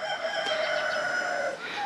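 Turkeys, including a royal palm, call inside a hoop coop in a loud, sustained, close run of layered honking cries with no pauses.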